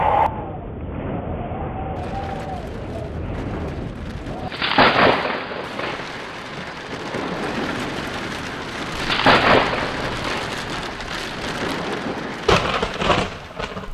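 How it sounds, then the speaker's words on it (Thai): Monsoon thunderstorm in Arizona, with steady rain falling throughout and three loud thunder cracks and rumbles breaking through at intervals, close and full-bodied, no talking. "Every summer, the monsoon brings powerful thunderstorms to Arizona."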